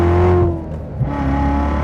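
Corvette Z06 with a 7-speed manual at Spring Mountain Motorsport Park, its engine droning loudly at high revs, dipping briefly during a gear change, then pulling hard again, heard from inside the car.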